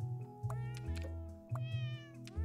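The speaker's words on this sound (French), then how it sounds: "On est avec des petits chats qui ronronnent" Cats meow repeatedly in the puzzle video game Cats Organized Neatly. Several clear, drawn-out meows follow one another over a soft, low, purr-like rumble.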